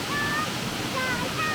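The waterfalls at Rydal Gorge give a steady, dense rush of falling water, continuous and fairly near, with no other distinct sounds.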